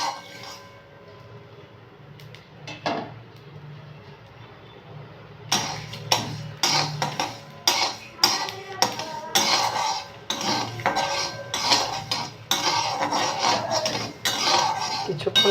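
Dried chillies and whole spices dry-roasted in an empty pan for mango pickle: quiet at first, then repeated metallic scrapes and clinks of a spoon against the pan, close and rhythmic.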